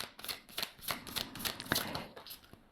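Tarot cards shuffled and drawn by hand, a run of quick crisp riffling flicks and soft slaps close by, faint and steady with no talk.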